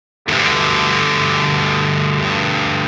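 An electric guitar played through a Fortin Big Chugs distortion pedal with its grind control being adjusted rings out as one loud, thick, distorted chord that sustains for nearly three seconds, close and alone.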